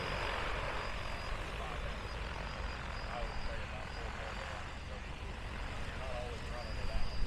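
A large agricultural spray drone lifts off at an outdoor farm show, its rotors giving a steady, fairly loud whine and broadband buzz that holds without a break for several seconds.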